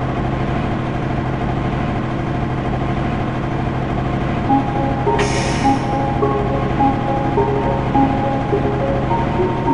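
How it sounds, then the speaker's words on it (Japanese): A train in the video game Densha de Go! Final idles at Tachikawa station on the Chuo Line with a steady low engine hum and faint rhythmic rumble, while a short electronic chime-like tone sounds midway; no one speaks. "東京行きの電車、発車いたします。"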